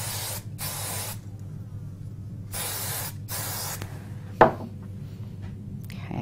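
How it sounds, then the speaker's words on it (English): Several short bursts of spray glue from an aerosol can hiss, loud and close, separated by pauses, followed by a sharp tap. "So I'm going to use a little spray glue on the back."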